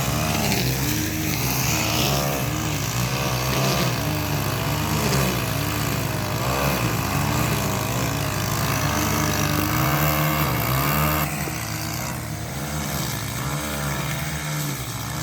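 Two string trimmers race through tall grass and flowers, their engines droning loud and continuous with whining revs and shifts in pitch, close by and without talk.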